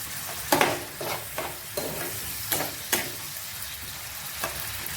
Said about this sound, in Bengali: এবার আমি একটু নাড়াচাড়া করব, কাঁচা ভাবটা জাস্ট দূর হবে।